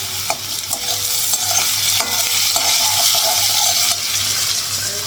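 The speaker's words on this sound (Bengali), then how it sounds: "আমার জন্য আলু ভাজা করছি" Potatoes fry in a pan over lowered gas, a continuous close sizzle broken by repeated sharp clinks and scrapes from stirring, with no talking.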